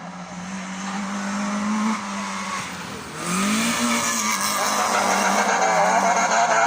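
Loud, close race car at a 2020 hill climb at Busque in France launches up the course, its engine revving hard and climbing in pitch through quick gear changes.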